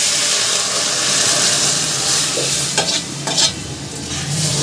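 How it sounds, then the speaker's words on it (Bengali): Boiled lentils go into a hot pan of fried onions, giving a loud, steady steaming sizzle with a few louder bursts of stirring partway through. "এবার আমি ডালটাকে দিয়ে দিচ্ছি, সেদ্ধ করা ডালটাকে দিয়ে দিচ্ছি।"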